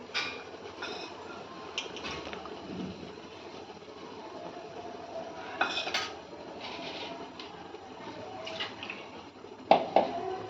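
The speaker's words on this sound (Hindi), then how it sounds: "ये देखिए, यहाँ देखिए हमारा स्टीम के लिए पानी तैयार हो रहा है। अब इसी पे रखेंगे।" Metal pot clatters as it is set over water heating for steaming gojha pitha in a home kitchen, scattered scrapes and clanks with a sharper clank near the end, close by over a low background rumble.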